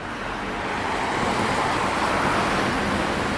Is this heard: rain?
no